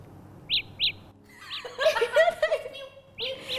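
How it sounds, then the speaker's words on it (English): Samsung Galaxy Buds Pro earbuds play their find-my-earbuds alert, short high bird-like chirps repeating in pairs, soft and close, with a person talking and a brief laugh between chirps. "you can make your earbuds play sounds for you to find it"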